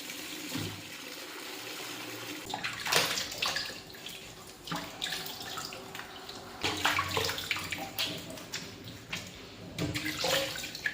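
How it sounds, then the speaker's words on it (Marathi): Sweet potatoes being washed by hand in a pot of water: close, uneven splashing and sloshing in repeated bursts with short quieter gaps, and no voices. "एका भांड्यामध्ये पाणी घेऊन त्यात सर्व रताळी स्वच्छ धुवून"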